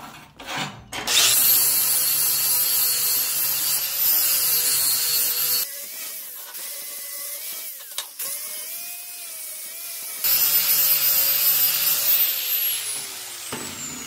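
A 120-grit flap disc on a grinder cleaning up plasma-cut stainless steel letters, producing a loud, high-pitched whine that rises and falls in pitch through several long grinding passes.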